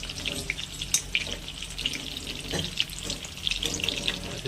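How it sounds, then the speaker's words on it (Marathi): Chicken lollipops deep fry in oil, a faint steady bubbling hiss with scattered small pops and crackles throughout. "आता याला आपण बढिया मस्त डीप फ्राय करू"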